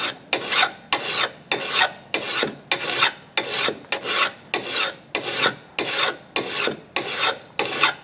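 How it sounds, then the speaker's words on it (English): A flat hand file rasps along a mulching mower blade in about fourteen even, rhythmic strokes, each a loud, close scrape separated by a brief pause, with no voices. "So here's the flat file. You can see I'm getting a better bite on that right there."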